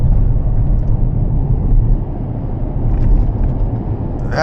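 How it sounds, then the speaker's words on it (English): Inside a new Toyota Tacoma pickup truck on a bumpy road, a loud, continuous low cabin rumble rolls on, with a brief higher rattle or squeak near the end. "You can hear a little bit of noise, but it's nothing that continues. It's only because I'm going over this bumpy road."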